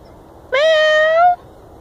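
A single drawn-out meow imitated by a human voice, clear and close, lasting under a second against near silence.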